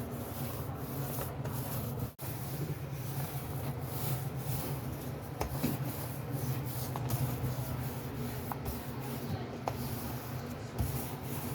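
Daich SpreadStone countertop paint with sand in it is pushed down and worked around on a countertop, giving a steady, faint, continuous rubbing and scraping with no voices.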